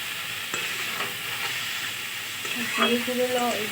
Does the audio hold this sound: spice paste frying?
yes